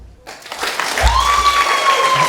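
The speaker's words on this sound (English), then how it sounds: "clap if you understand Russian" A stand-up comedy crowd in Berlin breaks into clapping that starts after a brief silence and swells quickly, a fairly loud and close burst with a faint tone running underneath.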